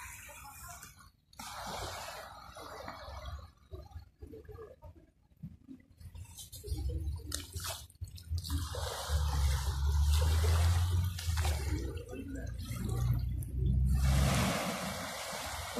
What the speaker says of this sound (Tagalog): Gusto ko itong ganitong ng alon i-record ko.